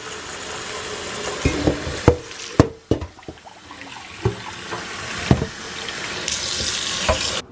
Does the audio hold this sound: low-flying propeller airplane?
no